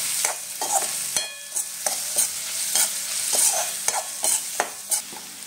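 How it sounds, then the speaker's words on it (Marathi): Mango rice mixture sautéing in a pan, a constant close sizzle punctuated by a steady series of spoon strikes and scrapes against the pan as it is stirred. "हे चांगलं असं मिक्स करून घ्या। एक मिनिट चांगलं परतून घ्यायचं आहे।"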